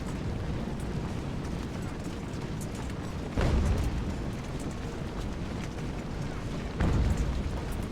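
Cannon fire during a British campaign battle at Fort George in the strategy game UGAR: two deep booms about three seconds apart rise over a dense, rumbling battlefield din.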